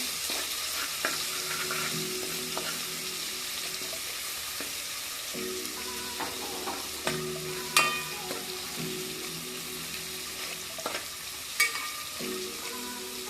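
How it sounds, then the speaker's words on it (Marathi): Garlic frying in hot oil in a pan, a steady quiet sizzle with repeated stirring scrapes and occasional clinks, close by with no voices. "तेल गरम झालेलं आहे ना लसूण पण टाकला त्याच्यात लसूण फ्राय करून घेऊया"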